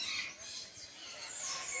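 Maitaca parrots call in a short outdoor burst: raspy, high squawks and chattering cries at moderate distance over faint background noise, with no talking.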